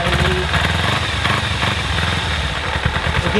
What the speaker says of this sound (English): I want the bike to warm up